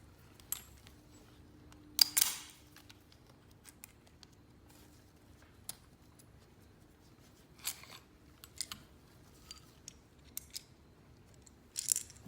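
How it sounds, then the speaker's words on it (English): A Colt 1911 pistol is taken apart on a quiet bench, with sparse metallic clicks and snaps close by, including a sharp slide-and-spring rattle early on and scattered small clicks afterward. "the first thing we do is tear the gun down as normal"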